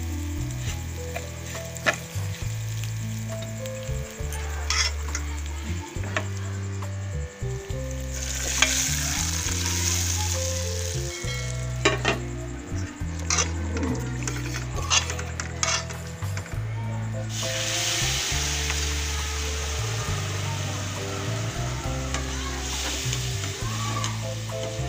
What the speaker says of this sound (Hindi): तड़का बना रही हूँ।